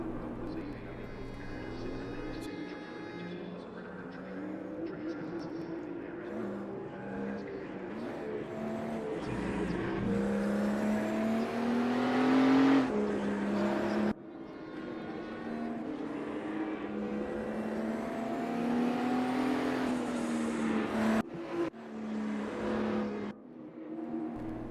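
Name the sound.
race cars lapping in a sim racing video game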